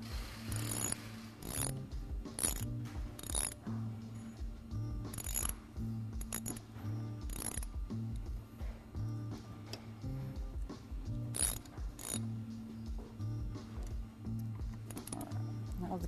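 A ratchet clicks in repeated short bursts while tightening the Galfer brake rotor bolts on a sportbike, close and crisp over a low steady hum.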